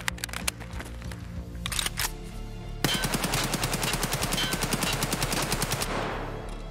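Automatic AKM rifle fire in Escape From Tarkov, heard inside the hideout: scattered single shots first, then a loud sustained burst of rapid, evenly spaced rounds lasting about three seconds before tailing off.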